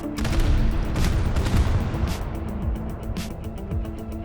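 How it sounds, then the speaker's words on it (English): Naval guns firing armor-piercing rounds in the World of Warships game: a dense, loud barrage of booming shots over a continuous low rumble, with the blasts gradually thinning out toward the end. "start hitting him with some AP rounds on all guns"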